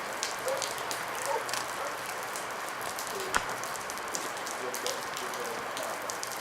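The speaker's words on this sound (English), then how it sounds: "It's raining" Steady rain falls outdoors in a broad, even hiss, with a few brief clicks and one sharp tap near the middle; distant birds may be faintly present.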